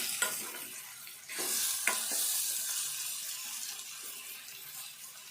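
Fenugreek leaves frying with vegetables in a pan, a steady hiss and sizzle with a few stirring scrapes near the start, close and moderately loud, no talking.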